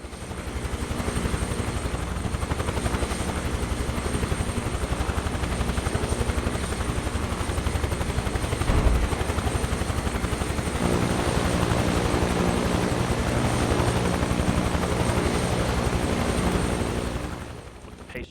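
A helicopter in Microsoft Flight Simulator 2024 descends slowly and sets down on an oil rig helipad during a hurricane evacuation rescue, its steady loud rotor and turbine drone continuous throughout before cutting off abruptly near the end.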